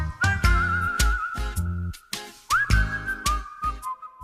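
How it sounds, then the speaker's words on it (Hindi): A shrill whistle of the kind featured in 1990s Bollywood film songs holds two long, bright notes, each rising in with a quick upward slide, over a steady thumping rhythm of percussive beats. "नब्बे के दशक के गानों में बजने वाली वो सीटी जिससे गानों में जान आ जाया करती थी।"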